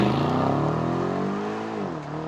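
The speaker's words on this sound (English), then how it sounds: "That was one of the coolest launches because like right once it started, it's slow and then full in." An Aston Martin DBX SUV with an AMG-sourced twin-turbo V8 launches hard, its engine note loud and close, climbing steadily in a continuous rising roar before easing slightly near the end.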